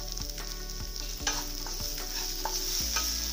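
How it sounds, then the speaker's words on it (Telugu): Spices stirred into a frying tomato masala, a spoon scraping the pan in slow repeated strokes over a constant close sizzle, with no voices. "ఇప్పుడు ఈ చికెన్కి మసాలా అంతా పట్టుకునేలాగా బాగా కలుపుకోవాలి."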